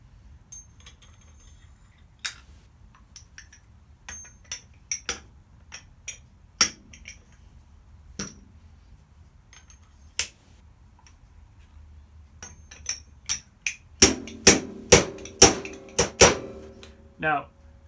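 An old bushing used as a driver taps a new fork bushing into a Harley-Davidson Sportster 1200 fork slider: sparse sharp metallic knocks, then a quick run of louder hammer blows near the end, with quiet speech between strikes.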